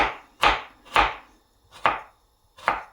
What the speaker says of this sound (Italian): Mentre aspetto il soffritto, trito anche i pomodorini.